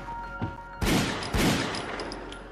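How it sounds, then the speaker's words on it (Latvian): Gunfire in a Latvian television drama: two loud, abrupt bursts of shots, the first about a second in and the second just after, with a fainter crack before them and ringing tails after. "Kas šauj?"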